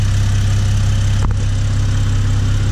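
A BMW 3 Series E90 engine runs steadily under load with an AZ-13 370A high-output alternator fitted, giving a loud, close, even drone with a constant low hum and no speech.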